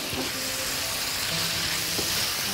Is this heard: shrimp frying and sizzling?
yes